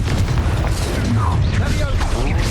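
A Confringo fire spell from Hogwarts Legacy on Nintendo Switch explodes with a loud, booming blast and crackling debris mixed into a continuous fight soundscape, while a voice speaks over it.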